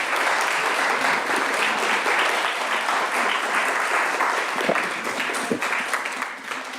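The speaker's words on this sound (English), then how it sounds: "And now we'll take applause." A dense, steady wash of audience applause fills the hall at a school board candidates forum, sustained and fairly loud throughout before tapering slightly at the end.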